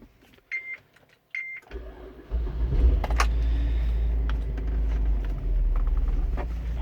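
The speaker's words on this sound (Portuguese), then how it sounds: "deixa eu ligar o carro aqui" A Chevrolet Captiva is started, with a couple of short electronic chimes and clicks before the engine catches around two seconds in. It then settles into a steady, close idle rumble, with some faint clicks over it.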